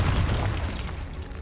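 Confringo fire spell blast in Hogwarts Legacy, a single loud, low booming burst that rumbles and decays over about a second.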